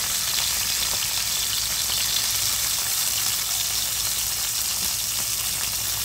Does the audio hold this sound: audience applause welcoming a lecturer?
no